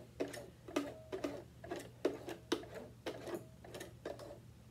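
Sewing machine fitted with a side cutter foot stitching a test piece, a quiet run of rhythmic mechanical clacks and ticks in an even pattern over a faint steady hum.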